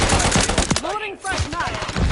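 Rapid gunfire in Call of Duty: Modern Warfare 3: loud, dense bursts of shots at the start and end, with tonal game effects and a brief lull in between.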